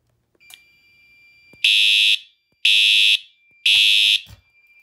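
A fire alarm sounds three times during a Faraday alarm system test: loud, harsh electronic blasts of about half a second each, spaced roughly a second apart, preceded by faint clicks of handling.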